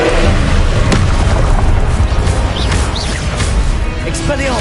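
A fiery Confringo spell blast in Hogwarts Legacy, a loud, dense explosive boom that fills the whole clip with crackling rumble and a few faint whooshing streaks.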